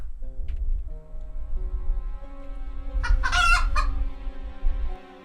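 A video game chicken clucks and crows once loudly over steady game music, the crow rising clearly above a low rumbling background.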